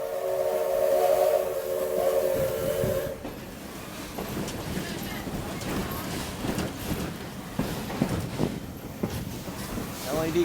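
A train whistle sounds a steady multi-tone blast for about three seconds, then gives way to rolling rail noise and clatter from on board the moving train, with voices talking underneath.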